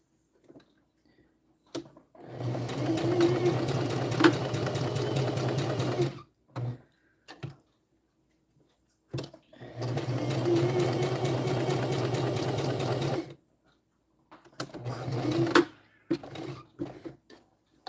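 Sewing machine stitching fabric for a girl's dress, running in three long bursts of steady whirring with short stops and reverse backstitching between them, close and clear with no talking.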